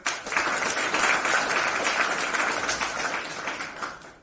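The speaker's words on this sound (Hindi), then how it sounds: "जिनके लिए एक बार आप जोरदार ताली बजाइए" Audience applauding loudly for a doctor at a talk, a dense sustained burst of clapping from a crowd that swells quickly and fades slightly near the end.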